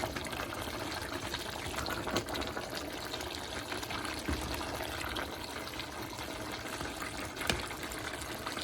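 Boiling water pours steadily from a kettle with a soft, continuous splashing trickle, fairly quiet and close, with no voices.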